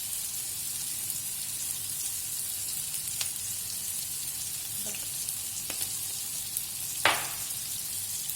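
Green chilies and black pepper fry in oil for an omelette, giving a steady, even sizzle with a few brief clinks and one louder stir or scrape near the end, with no talking.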